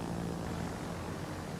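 Carrier-launched aircraft drone away from a hybrid warship in the naval battle game World of Warships, a steady propeller engine hum holding at moderate volume throughout, with no talk.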